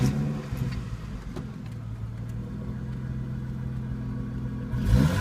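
A 2002 Ford Mustang with a 3.8L V6 and aftermarket non-stock exhaust idles with a steady low rumble close by, rising in a brief burst at the very end.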